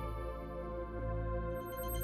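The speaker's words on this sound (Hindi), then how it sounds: "फोन उठाओ" A phone ringtone rings steadily in a Hindi-dubbed action movie scene, with a sustained tonal melody and no talking over it.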